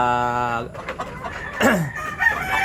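A Sigoy White broodstag crows loudly and close, a drawn-out harmonic call, followed by clucking and squawks from JBK hens in a breeding pen.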